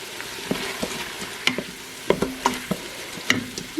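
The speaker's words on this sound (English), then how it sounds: "we're going to stir that in" A spoon stirs minced garlic into a large pot of homemade potato soup base, with irregular scraping and clinking knocks against the pot over a soft sizzle, close and fairly loud.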